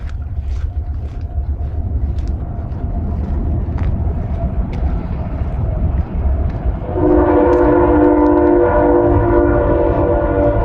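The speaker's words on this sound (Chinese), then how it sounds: "那边好像还有火车" A train rumbles past along Route 66 in the American West with heavy, continuous low roar, joined partway through by a loud, sustained horn blast.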